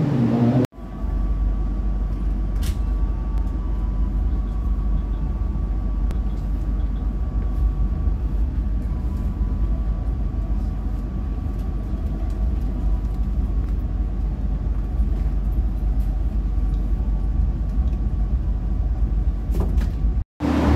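Dharma Wangsa train pulling out of Tegal station, a loud, steady low rumble and hum of the moving train that carries on without a break for about twenty seconds, with no talking.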